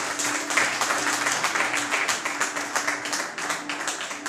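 A church congregation claps steadily in dense, continuous applause that fills the room, with no pauses and no clear voices on top.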